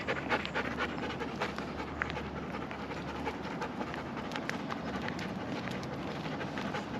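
A dog pants quickly and steadily at close range during collar training outdoors, with a low rumble underneath and no talk.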